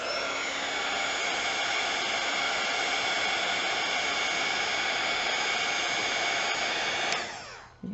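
A hair dryer blows steadily and loudly up close on a painting, a continuous broad whoosh that holds unchanged for several seconds before winding down as it is switched off.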